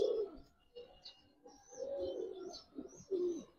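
Soft, throaty cooing of Giribaz pigeons repeating close by, several low rolling calls with brief pauses between them, faint chirps above.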